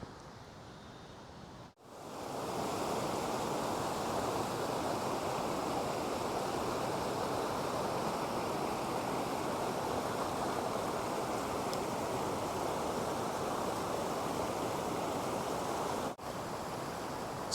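Mountain stream near Columbine Falls in Rocky Mountain National Park, a steady broadband rush of flowing water heard close and continuous, with a brief dropout near the start.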